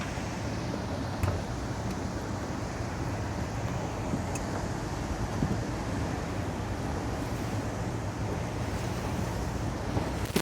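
Water spilling through river dam spillway gates makes a continuous broad rushing roar, steady and moderately distant, heard from a boat with some wind noise on the microphone.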